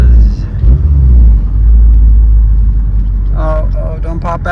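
A Mazdaspeed 3 with a misfire rumbles steadily from inside the cabin on a test drive, its low engine drone continuous throughout, with people talking over it toward the end.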